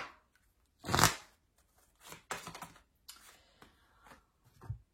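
A deck of cards is shuffled for a card reading: close, papery riffling bursts, one loud flurry followed by several shorter rustling shuffles and soft taps, with no voices.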